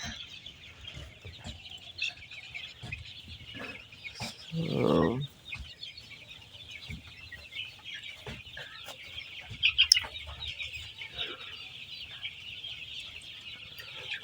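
A flock of 25-day-old Sonali chicks huddled together in the sun cluck and peep faintly, with scattered short chirps and a brief louder burst midway, and no voices.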